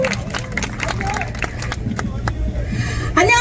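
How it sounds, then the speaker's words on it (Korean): An outdoor crowd at a presidential campaign policy event by the Soragit tower at Cheonggyecheon in Seoul breaks into clapping and cheering to welcome a young speaker, a lively burst of applause mixed with crowd chatter and voices. "박수로 맞아주시오."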